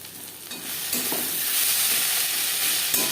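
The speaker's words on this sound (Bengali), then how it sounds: "পেঁয়াজ লালচে করে ভাজা হয়ে গেছে" Onions fry in a pan over a low-to-medium flame for a fish curry, giving a close, steady sizzle with stirring clatter and a brief knock near the start and end, no talking.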